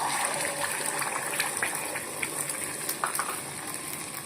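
An egg hisses and sizzles in hot oil in a pan, a steady close crackle with small pops throughout and no talking.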